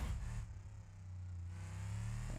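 A truck's engine revs loudly through its exhaust, a steady low rumble that dips briefly and then holds, close by.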